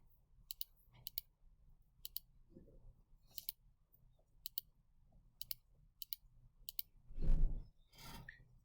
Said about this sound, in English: So I guess I'll just go and type this into my calculator.